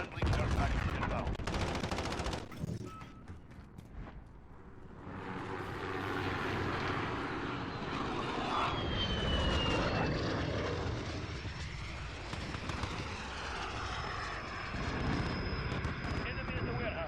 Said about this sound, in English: Friendly jet package inbound.